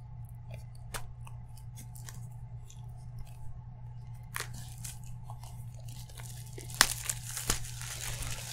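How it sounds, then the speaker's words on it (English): Plastic shrink wrap being peeled and torn off a boxed Game Boy game, close and quiet, with scattered crinkles and sharp snaps over a steady low hum, a louder crackling burst near the end. "Assuming I can get the plastic off"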